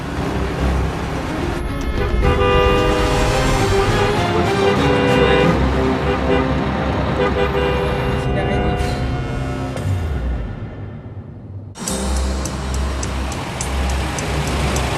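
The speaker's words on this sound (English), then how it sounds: "how much time we're wasting here in traffic." Busy road traffic in Vietnam on the way to a hospital: a steady rumble of passing cars and motorbikes with tonal horn blasts rising over it, while people talk throughout.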